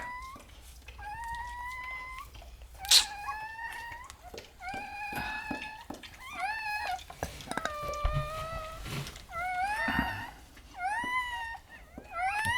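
Newborn Redbone Coonhound puppies cry in a series of thin, high, kitten-like squeals and whimpers that rise and fall, close and repeated with short gaps, alongside faint rustling.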